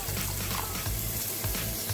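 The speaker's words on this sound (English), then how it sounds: "I'm just going to add a bit of water from the kettle." Water poured from a kettle into a pan of chickpea curry, a loud, continuous splashing gush with a low rumble that lasts the whole time, close up.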